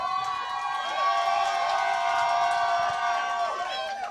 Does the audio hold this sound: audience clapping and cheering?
yes